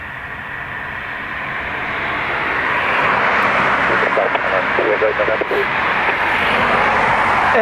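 Airliner EI348 departing Dublin Airport for Zurich, a steady broadband jet roar that swells gradually and holds loud, with voices talking over it in the second half.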